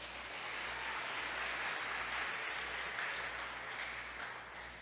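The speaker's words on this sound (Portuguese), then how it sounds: "Vamos aplaudir ao Senhor por isso?" A congregation at a Portuguese-language church service applauds in a steady, dense patter of many hands, sustained and fairly soft throughout, with no talking over it.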